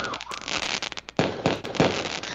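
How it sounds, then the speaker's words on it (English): Fireworks bursting outdoors during a live broadcast, a few sharp loud cracks and booms in quick succession with crackling between them, and faint background voices. "Fireworks, folks."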